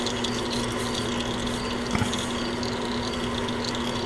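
Engine oil draining from a Kubota compact tractor during a 400-hour service, a steady close liquid stream splashing into a drain pan, continuous and even with a brief knock midway.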